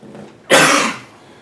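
A single harsh cough bursts out close by, loud and abrupt, fading quickly into quiet.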